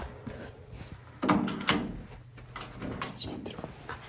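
A door or drawer being opened inside an abandoned inn, with a couple of creaky clunks and rattles at close range amid quiet room tone and faint movement.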